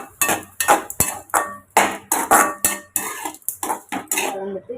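A metal spoon stirs lemon rice in a pan, a run of irregular scraping and clinking strokes, loud and close, with short pauses between them.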